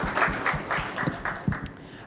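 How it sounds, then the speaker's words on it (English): A conference audience at an intergovernmental agriculture forum in Mombasa applauds a session rapporteur; the clapping is a moderately loud, steady patter with a few sharper claps standing out, brief and unaccompanied by speech. "If we can give him a round of applause,"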